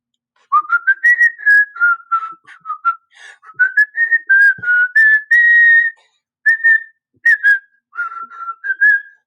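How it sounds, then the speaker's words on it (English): A man whistles a wandering tune in clear, close phrases with brief gaps between them, with no talking. "enough of the whistling"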